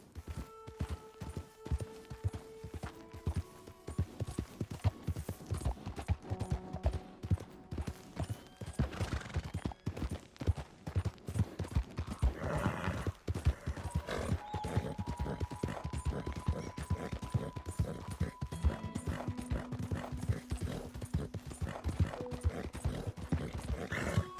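A horse gallops in the video game Red Dead Redemption 2, with steady rapid hoofbeats and clattering that run throughout, plus brief whinnies and musical tones layered beneath.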